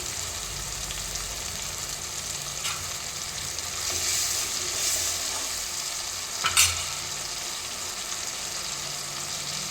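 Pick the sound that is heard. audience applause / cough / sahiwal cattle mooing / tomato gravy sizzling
tomato gravy sizzling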